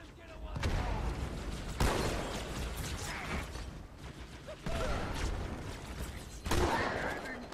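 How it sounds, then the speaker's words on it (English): Enemies shooting each other in the Halo 2 Anniversary campaign, bursts of loud rapid gunfire and crackling shots coming in waves over a busy mechanical background, with a voice heard now and then. "they're just shooting each other just to get to me"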